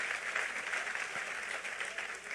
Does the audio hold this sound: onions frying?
no